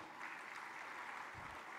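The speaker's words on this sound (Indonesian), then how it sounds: "kita beri tepuk tangan" An audience at an Indonesian ministerial event applauds, giving a steady, even wash of clapping that sounds far off and fairly faint.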